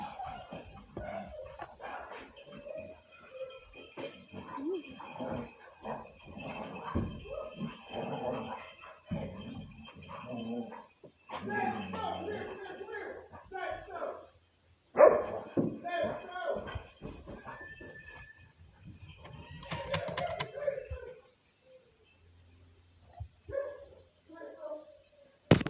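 Dogs bark, yip and growl in short bursts across a domestic scene, mixed with frequent talking, occasional thumps and a slam, with the barking loudest near the middle and end.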